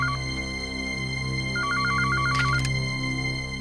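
A telephone sounds its electronic tone in a quiet room over a soft background score: a brief beep at the start, then a rapid warbling ring of about a second, with no voices.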